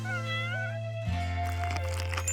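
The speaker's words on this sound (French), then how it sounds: "Gentil chat." A cat meows indoors in a home at breakfast time, a few drawn-out, clear tonal calls rising and falling close by, with no one talking over them.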